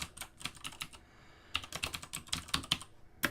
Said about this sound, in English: So down at the prompt again, type install package